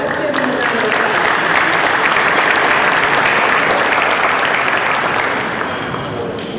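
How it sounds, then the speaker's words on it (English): Loud, close round of applause from attendees at a Rotary club meeting, a dense continuous wash of clapping that holds steady and eases slightly toward the end. "Let's give them a round of applause."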